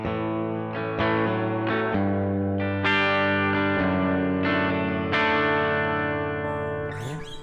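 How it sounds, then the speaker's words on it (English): Electric guitar played through the hall reverb of a Keeley Supermod Workstation pedal, a series of loud strummed chords each ringing out into a long, spacious wash that keeps sustaining between strikes, played alone. "Okay, so here's the reverb."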